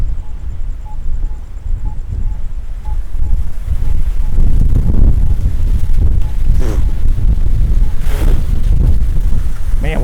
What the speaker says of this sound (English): Oh man, the wind is really picking up now.